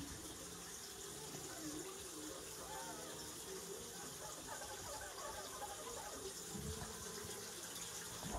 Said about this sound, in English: I need to take quite a lot of water out, wipe everything, put new water in